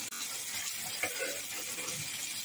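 Fish eggs sizzle and fry in a pan, a soft, steady crackling hiss heard close up with one small clatter near the start.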